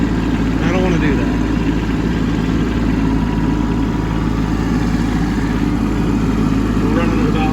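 A Kubota B2601 compact tractor engine runs steadily at about 2100 RPM during snow clearing, a constant loud low diesel drone with even vibration throughout and no breaks.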